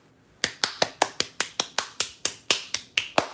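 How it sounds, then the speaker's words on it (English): Hands clap in a steady rhythm, about fourteen sharp, evenly spaced claps close by, with quiet gaps between them and no talking. "Everybody clap your fucking hands right now."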